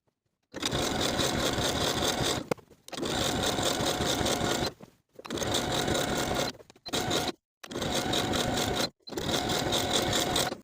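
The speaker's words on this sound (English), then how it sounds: "I'll be sewing from the outside of that lining material, making sure as I go that I'm catching that seam allowance" Close, loud runs of rapid mechanical whirring from a sewing machine stitching the lining seam of a hoodie hood, six bursts broken by brief stops, with no talk.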